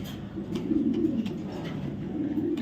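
Racing pigeons coo nearby in a rhythmic series of low, throaty rolling calls, continuous over a steady background hum with no talk.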